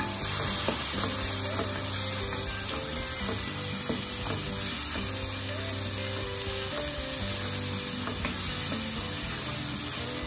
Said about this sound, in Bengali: লঙ্কার গুঁড়ো এক চামচ জিরা এক চামচ সব মশলা দিয়ে ভালো করে কষিয়ে নিচ্ছে